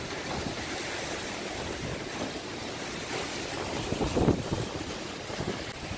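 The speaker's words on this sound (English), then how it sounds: "this again is Lake Michigan, and the water is extremely rough, as you can tell" Strong wind roars against the microphone over rough, churning waves on Lake Michigan on a very cold day, a continuous broadband rush that surges briefly louder near the end, with no voices.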